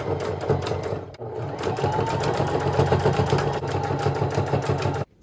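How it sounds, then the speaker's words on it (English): Sewing machine running steadily as it stitches a hem onto thrifted clothing, a fast continuous mechanical whir with rhythmic needle clatter close by, running about five seconds before stopping abruptly. "now we can start to sew"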